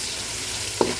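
Garlic and onions sauté in a pan, heard as a brief, steady hiss of frying with a single soft tap of a utensil near the end.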